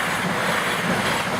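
A train rushes past Spondon level crossing in Derby, a loud, close, continuous roar of wheels and rails filling the whole moment with no voices.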